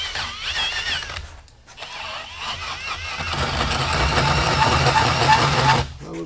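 Cordless power drill with its clutch set, used while fitting hydraulics to a VW Vanagon single-cab trailing arm, whirring loudly and steadily near the microphone, cutting out briefly and then running again before stopping.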